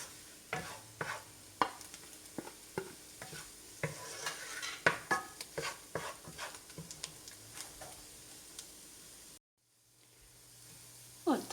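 A spatula stirs an egg and tomato dish with green chilies, coriander and dried fenugreek in a pan, giving a string of sharp, rhythmic scrapes and clacks over a soft sizzle, then a brief silence before stirring resumes.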